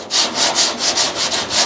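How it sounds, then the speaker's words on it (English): Close, loud rhythmic rasping of a sanding block scrubbing back and forth on body filler on a car trunk lid, about eight even strokes in quick succession. "you grab a sanding block and then you experiment."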